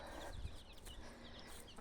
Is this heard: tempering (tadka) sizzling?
no